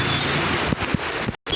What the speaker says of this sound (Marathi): पूर्ण वारा वगैरे वादळ सुटलेला आहे